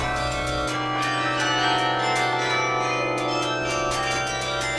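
Carillon bells in Tourcoing, France ring continuously, many tuned bells overlapping in a rich, sustained peal with repeated strikes ringing out over the lingering tones.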